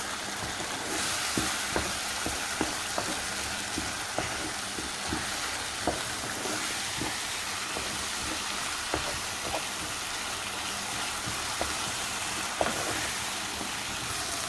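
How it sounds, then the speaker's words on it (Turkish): Tomato paste and ground pepper stirred in a hot pan, a steady sizzle and frying hiss broken by regular taps and scrapes of a spoon against the pan. "domates salçası, 1 yemek kaşığı toz biber atıyoruz. Bu şekilde malzemelerimizi karıştırıyoruz."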